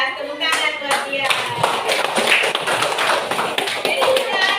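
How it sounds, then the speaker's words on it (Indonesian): Children in a school classroom clap their hands together in a quick, dense burst of applause, with voices mixed in. "Tepuk tangan buat dia."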